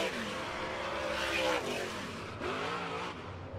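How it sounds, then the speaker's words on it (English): Lucas Oil Late Model dirt race cars run hot laps at Brownstown Speedway, engines roaring and rising in pitch as they pass at a distance, a steady blended drone with swelling revs. "Sixth and final hot lap group in the Lucas Oil Late Model Dirt Series."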